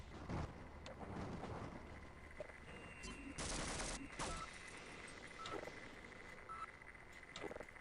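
An automated turret fires in Half-Life 1, a rapid burst of gunfire standing out over a faint background of game sounds.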